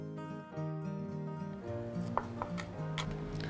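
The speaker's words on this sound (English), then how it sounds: "Then I will be slicing and chopping chili pepper." A knife taps on a chopping board in a few light, evenly spaced strokes while slicing chili pepper, over steady background music.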